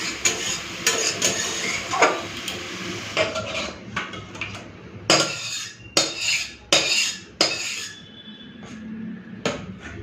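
Finished parshe fish curry made with mustard-poppy paste tipped out of a pan, a run of clanks and scrapes of metal utensils on the pan in irregular bursts, with a faint sizzle in between.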